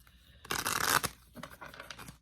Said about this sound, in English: I'm going to do a quick shuffle just so that you know that I shuffle here